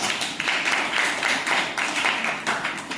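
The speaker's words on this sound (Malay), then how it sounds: "Alright, berikan tepukan." A group of students claps together during an Islamic religious lesson, a steady wash of hand claps with pulsing swells, fairly close and with almost no talking.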